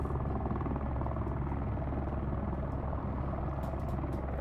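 A helicopter engine and rotor in a flight simulator video game give a steady, even drone that continues unbroken throughout with no talk over it.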